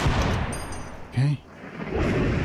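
A turret fires in the video game Receiver 2, a brief sharp burst of gunfire rising from a noisy, muffled background.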